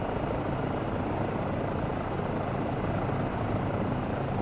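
A helicopter flying in Microsoft Flight Simulator 2024, its dense, steady rotor and turbine roar running loud and continuous throughout with no talk.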